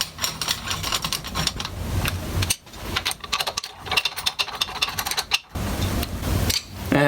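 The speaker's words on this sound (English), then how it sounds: "I just have to run the screws back in again." Screws being run back into a die on a Cobra tube bender for bicycle framebuilding: a busy run of close, ratcheting mechanical clicks and whirs with two brief pauses, fairly loud throughout.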